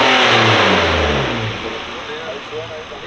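A 2018 eighth-generation Nissan Maxima fitted with a Stillen cold air intake revs hard from inside the cabin, a loud throaty surge that eases back toward idle, with people talking over it.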